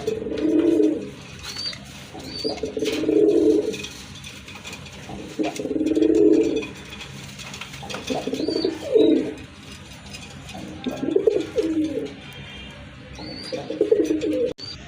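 Pigeons coo in a steady repeating pattern of low, throaty rolling calls, close by, with faint chirps and background noise between them.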